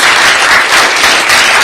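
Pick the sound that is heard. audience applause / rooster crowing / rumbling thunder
audience applause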